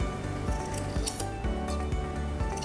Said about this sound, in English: I'm just coming straight in and cutting towards the outer corner of her eye.